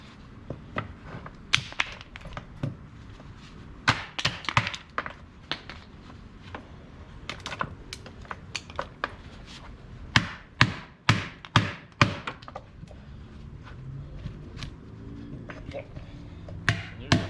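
Hammer strikes chip wood off a log during a cabin build, irregular clusters of sharp close knocks spread over the span, with a person talking quietly in between.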